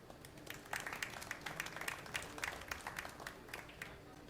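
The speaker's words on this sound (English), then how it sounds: "Everyone in the arena, except for Alex PAGULAYAN, is hoping for the shootout. They're all applauding." Arena crowd applauding at the 2025 Kamui Las Vegas Men's Open pool match, Pagulayan vs Chinakhov: steady, dense clapping that sustains throughout, with a faint voice beneath.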